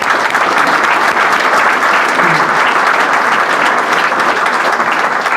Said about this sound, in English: we're going to give you all a round of applause too,